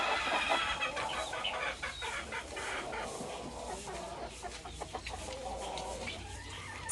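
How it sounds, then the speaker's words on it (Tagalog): Chickens clucking close by near their nests on a rural countryside farm, overlapping soft, repeated clucks and chatter over a steady background hiss, with no one speaking. "Ganun ang manok eh."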